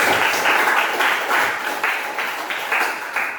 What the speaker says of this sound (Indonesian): Tepuk tangan untuk kelompok yang terakhir.